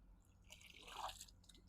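A sample cup is rinsed in water, giving faint, soft splashing and dripping trickles that are quiet and close, with no talking.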